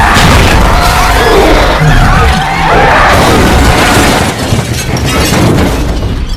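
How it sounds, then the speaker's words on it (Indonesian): Movie ambulance crashing and overturning as it veers off the road into a forest, a dense, loud run of booming impacts, smashing and shattering glass that fills the whole stretch without pause. "mobil ambulan yang dikemudikan oleh Katie terbalik"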